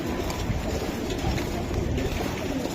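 Racing pigeons in a loft coo in a low, steady murmur that runs throughout, several birds overlapping at close range with no talk.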